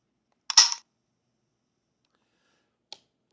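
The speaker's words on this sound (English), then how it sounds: "This is the sound it makes when you click the shutter." A camera shutter fires with a crisp, close mechanical click and short whirring snap, followed after a pause of about two seconds by a faint second click in otherwise quiet surroundings.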